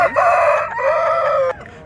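A single loud crow from a rooster at a chicken market, close by, drawn out over a second and a half before cutting off sharply into quiet.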